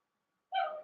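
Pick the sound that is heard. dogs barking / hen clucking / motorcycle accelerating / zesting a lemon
dogs barking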